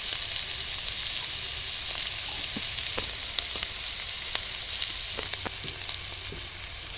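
Onion, chili, ginger, garlic and turmeric frying in hot oil for taro leaves with prawns, a loud continuous sizzle with scattered pops and crackles throughout, close and steady.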